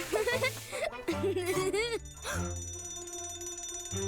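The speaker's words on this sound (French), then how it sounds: "Oh oh, l'alarme incendie." A cartoon fire alarm rings out with bright, repeating electronic tones, following an animated voice that cries out, all loud and close.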